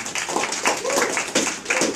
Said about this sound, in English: You can give Zorro a round of applause there.